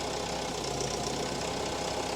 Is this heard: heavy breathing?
no